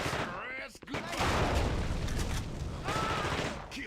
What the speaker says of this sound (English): I'm going to grab a grenade. I'm going to lob it.